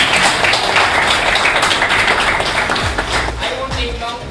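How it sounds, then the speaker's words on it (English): A crowd at a baking workshop in a café and confectionery claps for the owners, a dense round of applause that thins out as voices talk over it. "Can we have one huge round of applause for the owners standing there who have given their energy?"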